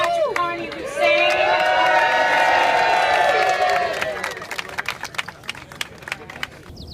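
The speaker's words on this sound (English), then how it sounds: "round of applause for Patrick Carney" A crowd at an outdoor San Francisco Pride event cheers and whoops loudly, with sustained shouting voices and scattered applause, then the cheering fades and the clapping breaks into sparse, uneven claps.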